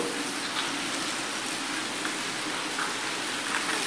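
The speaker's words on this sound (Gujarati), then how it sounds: "કેવો સરસ વરસે વરસાદ છે" Steady rain falls, a dense even hiss of drops on surfaces with no pauses, moderately loud and filling the whole space.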